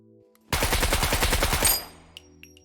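A rifle in a video game fires a rapid full-auto burst of about a dozen close, loud shots in even rhythm, then stops abruptly and leaves a short ringing tail with faint clicks.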